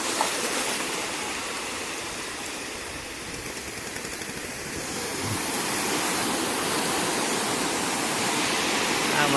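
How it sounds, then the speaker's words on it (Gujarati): Sea waves at Kotda coast wash in a continuous, loud roar of surf that swells slightly toward the end, with no voices. "આ છે દરિયો કોટડાનો."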